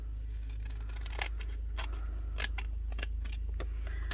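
Scissors snipping a paper flap on a junk journal made from a Little Golden Book, several crisp separate cuts spaced irregularly, close and fairly quiet over a steady low hum.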